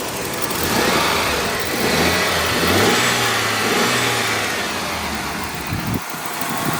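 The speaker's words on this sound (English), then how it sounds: "Find where the throttle is and give it a bit of a blip if I can reach it." A 1994 Ford EF Fairmont's inline six engine, heard up close under the hood, idles with a steady rumble, swells through a throttle blip and settles back down, ending with a sharp click.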